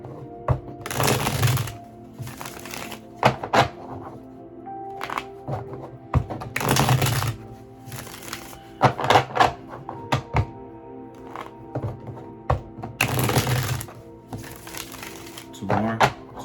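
Repeated bursts of cards being riffled and shuffled, each lasting about a second, separated by softer clicks and taps.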